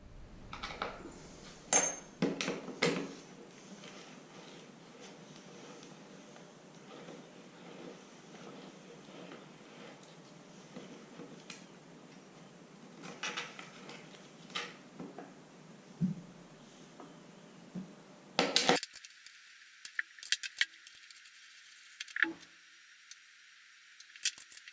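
A skate tool turns a bolt on a skateboard truck, giving scattered metallic clicks and ticks up close, with a quieter hiss in the background.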